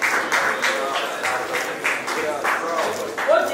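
Applause from the audience at a youth business awards ceremony, steady rhythmic clapping in a large room that swells and fades in waves, with faint voices underneath.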